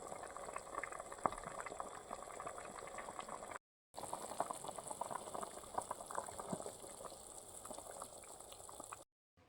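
Beef tongue boils in a pot of water, a continuous quiet bubbling and simmering that runs steadily with a brief cut in the middle and no voices.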